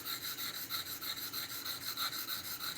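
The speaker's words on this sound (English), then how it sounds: "It takes a lot more to remove material, even on these diamond stones." An M390 steel knife blade worked across diamond sharpening stones, making a steady back-and-forth rasping scrape with about a dozen even strokes, close and moderately loud, with no voices.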